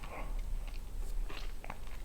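Crunchy chewing of a Nestle Toffee Crisp chocolate bar, a dense, steady run of close biting and crisp crunching that fills the whole stretch with no talking.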